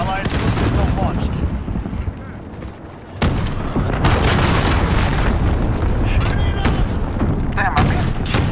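Missile strike explosions in the video game Call of Duty: Modern Warfare, loud rumbling blasts with sharp bursts layered over continuous battlefield gunfire, broken by one brief lull.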